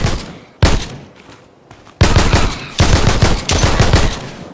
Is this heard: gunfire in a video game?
yes